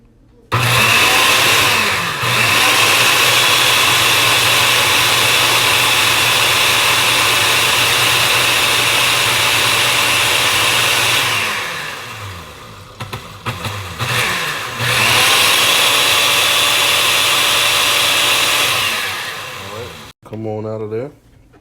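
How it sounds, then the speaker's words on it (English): A blender pureeing onion and garlic whirs loudly and steadily for about twelve seconds, stops briefly, then runs again in a second burst before cutting off. "So I've added my onion and garlic mixture to the blender."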